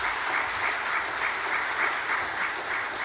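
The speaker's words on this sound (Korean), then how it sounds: "우리 김윤철 목사님 좀 여러분이 환영하고 또 박수해 주시기 바랍니다" A church congregation claps to welcome a visiting pastor at a Sunday service, with even, sustained applause pulsing gently in a rhythmic wave throughout.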